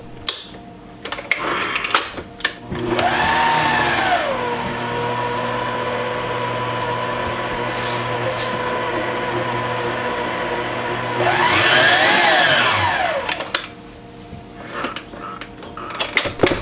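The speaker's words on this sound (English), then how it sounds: "Replace the whisk and beat on low for another count of 10" A whisk-fitted electric mixer beats Christmas trifle batter on low, giving a steady motor hum for about ten seconds that swells in pitch at the start and end as it speeds up and slows, with no talking.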